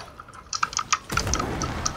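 Keys clatter on a computer keyboard, a quick run of sharp taps in the second quarter followed by denser, steadier typing over a noisy background hum, fairly close and moderately loud.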